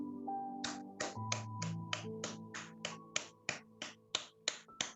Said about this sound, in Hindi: क्लैप करेंगे आप सब अपने लिए।